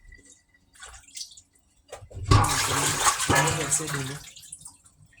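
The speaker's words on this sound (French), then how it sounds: "Je vais rincer ça. Et je vais mettre encore ma salade dedans. Pour laver ça encore de nouveau." Salad leaves rinsed under running water at home, starting with scattered drips and splashes, then a steady loud rush of water for a couple of seconds before it eases off.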